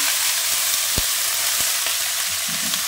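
Mixed vegetables and a five-spice whole-seed tempering frying in a kadai, a loud, dense, continuous sizzle heard up close, with a few faint taps of a spoon and no voices.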